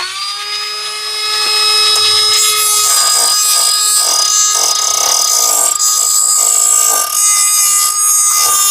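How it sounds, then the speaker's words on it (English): A Dremel rotary tool grinds and scrapes paint off bare car metal with a loud, close, high-pitched whine that spins up and holds steady, with a faint scratchy texture as it bites the surface. "You're going to have to scrape off the paint. So I got my Dremel tool,"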